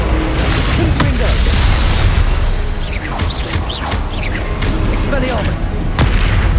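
Confringo blasting spell in the Hogwarts Legacy video game, with loud booming blasts and crashing impacts layered over a constant roar of combat, heard amid shouted spellcasting.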